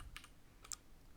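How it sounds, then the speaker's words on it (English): Keys tapped on a computer keyboard in two short bursts, a quick cluster of clicks early and another near the end, close and fairly faint against a quiet room. "go to start menu and type system"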